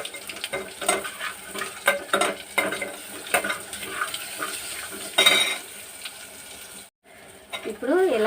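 Curry leaves and asafoetida tempering in hot oil for a rasam, giving a steady crackling sizzle with frequent stirring and utensil clinks, briefly cut off near the end before resuming.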